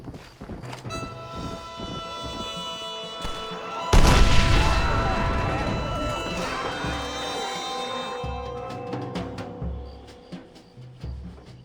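A heavy cannon blast in Red Dead Redemption booms out amid ongoing game battle noise and music, followed by a long rumbling decay and scattered thuds.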